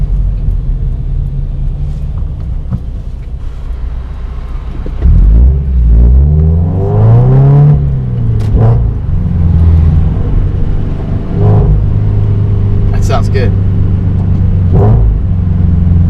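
Toyota 86 fitted with a DC Sports cat-back exhaust, engine rising in a loud rev then settling back to a deep, steady idle rumble, close by, with a brief spoken remark from a man near the end.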